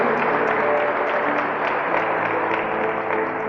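Loud, sustained applause from a church congregation fills the space evenly, a dense wash of clapping with a low murmur of voices beneath it.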